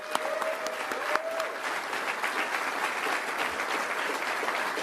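An audience gives sustained, steady applause for Erica Alexander, the clapping dense and even throughout with no break.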